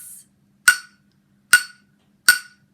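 Three short, sharp metallic taps of a wooden spoon on a pot, evenly spaced and ringing briefly with a bright clink, close and alone in otherwise quiet surroundings.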